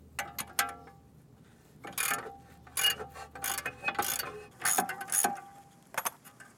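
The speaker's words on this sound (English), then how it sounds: "So we'll go ahead and get our 22 millimeter wrench on here." A 22 mm wrench ratchets on a thrust arm bolt of a BMW E34 during a suspension repair, giving a run of close metallic clicks and clanks in short irregular bursts with no talking.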